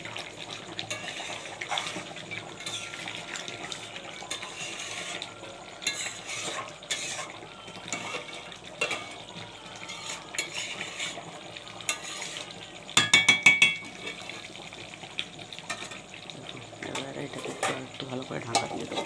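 Curry with green chillies is stir-fried in a pan, with a scraping, stirring clatter and soft sizzle, a quick rattling burst partway through, close and moderately loud.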